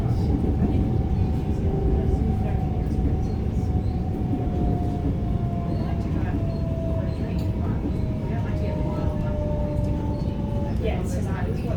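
Metro train running on the Dandenong line toward Caulfield, a steady loud rumble of wheels and motor with a slowly falling whine throughout, continuous and close as heard from inside the carriage.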